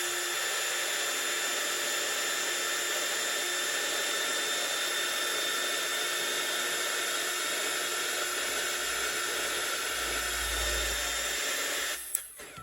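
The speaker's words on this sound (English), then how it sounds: "I'm going to be using my heat tool." A Bunro heat tool, an inexpensive model, blows steadily for heat embossing die cuts, giving a constant loud hiss of rushing air that cuts out near the end.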